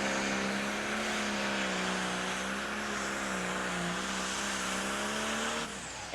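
A John Deere 55 series pulling tractor roars loud and steady down a pull track, its engine drone holding near-constant with a slight rise before cutting off at the end, no voices over it.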